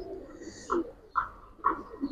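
At a pigeon market, caged pigeons give three separate rolling coos at close range, spaced about half a second apart over a faint background murmur.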